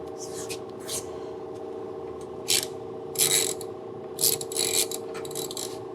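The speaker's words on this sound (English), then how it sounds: "take our 14 millimeter, and we're gonna loosen this bolt up." A ratchet loosens a 12 millimeter bolt on a Yamaha XSR900 motorcycle, giving several short bursts of clicking with pauses between them, close and crisp over a low steady hum.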